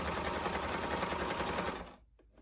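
A sewing machine runs at steady speed stitching a sherpa plush pillow, its close rapid mechanical chatter holding for about two seconds before stopping abruptly into quiet.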